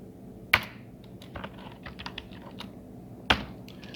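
Keys tapped on a computer keyboard, a few scattered clicks with two sharper louder strikes, close and clear with no talking.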